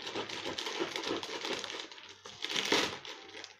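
Barbie doll packaging being torn open, a dense run of crinkling, crushing plastic and cardboard with scattered sharp snaps, loudest near the end, with no speech over it.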